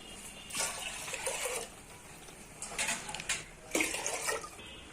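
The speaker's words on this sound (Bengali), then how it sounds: "এবার জল দিয়ে দেবো" Water is poured into a rice pot for fried rice in three separate splashing bursts, each a second or so long, with quiet gaps between them.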